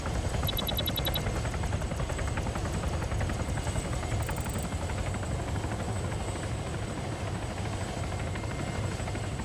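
A helicopter flies steadily in the game Arma 3, its rotor churning in a dense continuous roar throughout, loud and close, with a few faint electronic beeps early on and no talk.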